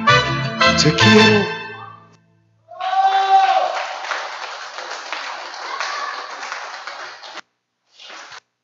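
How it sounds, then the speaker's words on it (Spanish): At a live Mexican-night music show, singing with instruments ends and the audience breaks into several seconds of steady clapping, which fades out before a brief last patter. "Muchísimas gracias por los aplausos"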